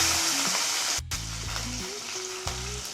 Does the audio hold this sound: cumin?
yes